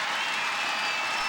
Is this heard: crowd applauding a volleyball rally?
yes